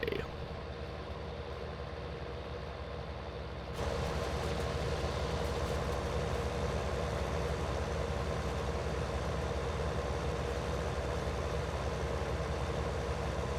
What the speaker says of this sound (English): Such a nice tractor now, this